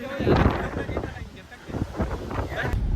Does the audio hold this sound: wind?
yes